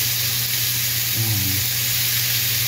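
Burbot pieces fry in a pan over garlic, onion and chili, giving a loud, even, hissing sizzle throughout, with a brief low murmur partway through.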